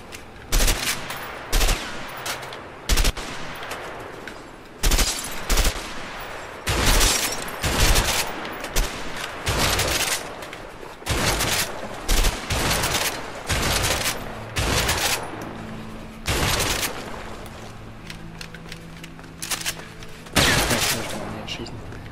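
Repeated gunshots in the video game A Way Out, fired at a gas station robbery, crack out in sharp bursts and quick volleys across the whole stretch, loud and near, with occasional talk between them.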